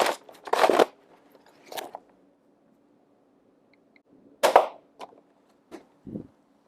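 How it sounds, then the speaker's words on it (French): A Nerf Ultra Pharaoh blaster fires with sharp snapping cracks, followed by softer thuds as darts strike a soft tarp, several isolated bursts separated by quiet gaps. "je tire à 4 mètres. La fléchette revient à mes pieds en tapant sur une bâche molle."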